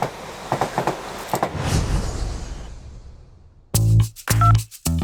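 A train pulls out of a station, a broad rumbling wash of wheels and carriage noise that slowly fades away, followed by a few loud, sharp electronic tones near the end.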